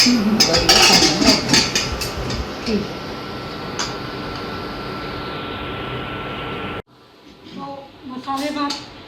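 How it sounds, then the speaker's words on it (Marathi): A pressure cooker on an induction cooktop, cooking masale bhat, lets out a loud, steady steam hiss that cuts off abruptly near the end, followed by a short stretch of quieter kitchen sound with a voice. "शिट्टी झालेली आहे. पहिली शिट्टी झाली आहे"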